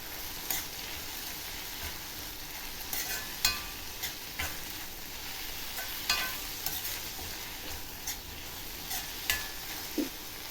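Onions and chopped coriander leaves sautéing in a pan, a steady soft sizzle with repeated spatula scrapes and taps at an irregular rhythm, close up, with no talking.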